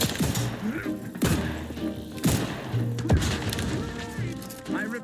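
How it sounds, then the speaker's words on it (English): Grenade blasts in the video game Outer Worlds 2, a run of heavy booming thuds about once a second over busy combat sounds and low game music, with voices speaking throughout. "No, like explosion imminent."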